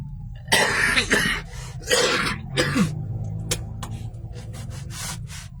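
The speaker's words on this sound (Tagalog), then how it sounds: "Grabe pa rin yung umuubo ko." Several harsh coughs and throat-clearing sounds in a row, close and loud, followed by quieter rubbing and scraping noises.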